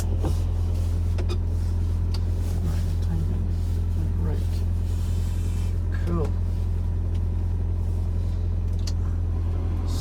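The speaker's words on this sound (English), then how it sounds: "So smooth and quiet, this engine." A 1998 MGF's K-series engine hums steadily while driving, a low, smooth drone with road rumble throughout, and someone speaks briefly over it.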